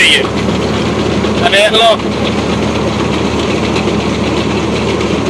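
A tractor engine drives a thresher cleaning mung beans in a village, a loud, steady mechanical drone that runs throughout while a person speaks briefly over it.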